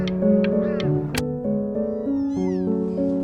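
Cat meowing in the game Before Your Eyes, a series of close, loud, drawn-out meows with shifting pitch, layered over a sustained musical tone.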